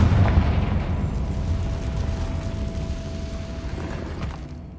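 Confringo fire spell explosion in Hogwarts Legacy: a deep boom at the start that rumbles on and slowly fades, with a faint burst near the end and no talk.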